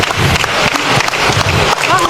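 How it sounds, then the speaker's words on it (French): A church congregation applauding at a deliverance service, a dense, loud, continuous patter of clapping hands with crowd noise and voices mixed in throughout. "Applaudis très bien le Seigneur des Seigneurs."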